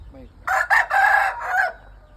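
A rooster crows loudly and close by, one long broken call of several bursts, with faint background noise before and after.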